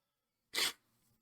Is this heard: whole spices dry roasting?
no